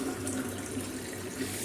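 Hot water is poured from a kitchen vessel while making laddu, a steady, close splashing rush with no pause across the short stretch.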